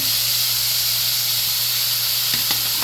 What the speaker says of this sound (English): I'm gonna go ahead and drop in our pimento, hot pepper, and our onion